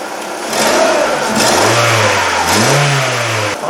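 A 2001 Ford Focus 2.0 SPI engine runs close by and revs up twice, its low drone climbing and falling with each throttle blip, with no talking over it.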